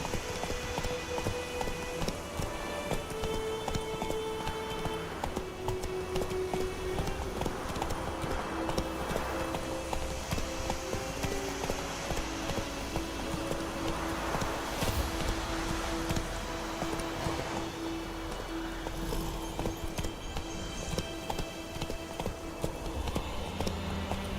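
Roach, a horse in The Witcher 3, gallops with steady rapid hoofbeats throughout, layered over a dense game soundtrack and ambient noise, with no voices.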